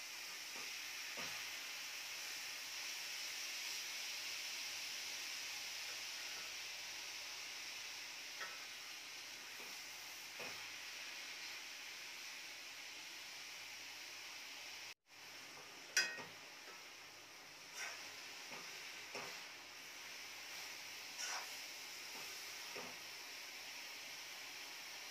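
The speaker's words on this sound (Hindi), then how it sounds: "मैंने यहाँ पे 1 कप घी लिया है। लौकी को हम भून लेंगे अच्छी तरह।" Grated bottle gourd frying in ghee in a pan, giving a steady, close sizzle and hiss throughout, with a few light stirring clicks later on and no voices.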